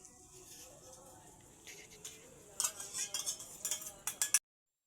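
Prawns stirred in a pan by a cook, with scraping, clinking spoon-on-metal strokes that come in quick irregular bursts toward the end over a low background hum before cutting off abruptly.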